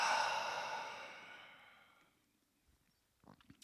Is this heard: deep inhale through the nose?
yes